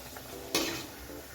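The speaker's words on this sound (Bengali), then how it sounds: "আমি একটু ভালো করে ভেজে নিচ্ছি" Luchi, a puffed Bengali flatbread, fries in hot white oil in a wok, giving a low steady sizzle with a sharp burst of crackling and stirring partway through, fairly close and with no voices.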